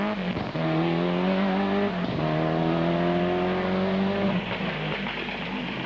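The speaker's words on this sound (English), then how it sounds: "Des Moore is back again in his own Toyota Celica, and he's pushing for a top finish today." Toyota Celica rally car on a stage at the 1998 Sligo Stages Rally, engine revving hard through rising gear pulls with gear changes, loud and close throughout.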